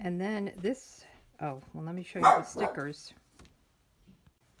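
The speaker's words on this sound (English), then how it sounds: "Sorry about the dog barking." A dog barks and yips in short bursts, close and fairly loud, overlapping and alternating with someone speaking in a quiet indoor room.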